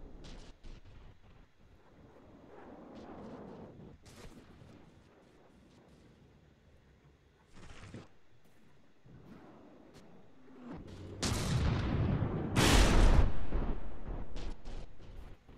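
Naval ship broadside guns firing in a video game, with scattered booming blasts and rumbling reports that build to a loud, dense volley near the end.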